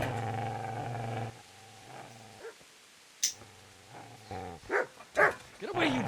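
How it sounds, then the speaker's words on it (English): In the video game Kingdom Come: Deliverance, a dog barks at the player with several sharp, fairly close barks and yips clustered toward the end, after a low rumbling stretch with some murmured sound at the start. "Get away, you mutt!"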